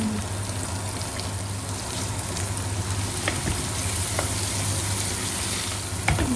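Chopped tomato and cut green mango sauté in a pan for a fish curry, a steady soft sizzle running unbroken with a few faint stirring scrapes and no talk.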